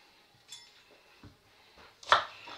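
A kitchen knife chops through onions on a cutting board, each onion getting a few strokes to cut it into pieces, giving a handful of separate soft thuds with one louder, crisper chop near the end, no talking.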